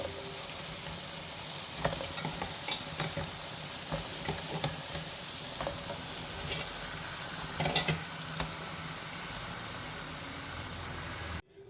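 About a kilo of cleaned chicken goes into masala in a pan for Kerala-style chicken curry, with steady close sizzling and frying under scattered scraping and stirring clatter, no talk.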